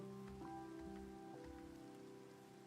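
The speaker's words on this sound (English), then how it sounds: "why is it always gotta rain?" Steady Minecraft rain patters on a surface in a soft, continuous hiss, with faint tonal notes drifting underneath.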